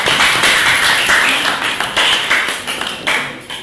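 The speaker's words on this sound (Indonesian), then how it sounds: "Beri tepuk tangan, kelompok 5" Classroom clapping for a student group coming forward to present, a small cluster of hands beating in uneven bursts nearby, swelling and fading in several waves over a few seconds.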